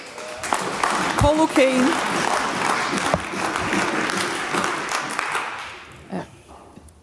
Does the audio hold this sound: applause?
yes